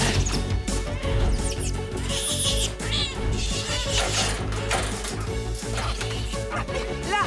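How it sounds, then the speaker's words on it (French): An animated cartoon cat meows and yowls amid busy music, crashes and scuffling effects, loud and close throughout. "Là, ce chat s'est emparé de la cage!"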